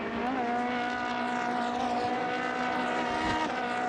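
Race cars in the Trofeo Pirelli R1 series at Jerez de la Frontera roar past at close range, engines howling in a loud, steady high-revving drone with pitch sweeps as the cars pass and brake, with no talk.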